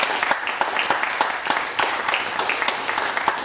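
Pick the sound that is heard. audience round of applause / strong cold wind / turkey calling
audience round of applause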